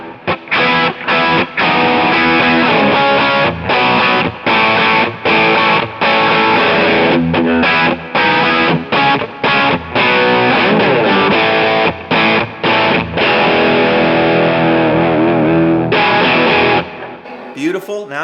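Electric guitar through a Kemper Full OC Drive pedal on its high peak setting, a Plexi-style mid-range boost, playing loud, dense distorted chords and riffs with short gaps, close and alone, ending in a brief noisy tail.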